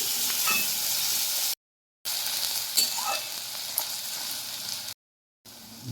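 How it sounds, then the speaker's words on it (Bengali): Chopped onions, about 150 grams sprinkled with a little sugar, sizzle steadily in hot oil in a pan for curry, a continuous close frying hiss with occasional stirring clinks and two brief silent gaps. "বেশ বাদামি করে ভাজা হয়ে গেছে"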